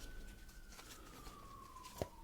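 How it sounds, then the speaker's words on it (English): A faint, distant siren wails in the background, one long slowly falling tone barely above room quiet, with a couple of soft taps and a brief knock at the end. "do you guys hear the sirens in the background?"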